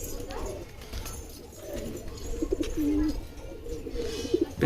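Giribaz and Teddy pyra pigeons coo in a low, throaty rolling murmur, several birds overlapping in steady bursts that swell louder toward the end, heard close with no talking.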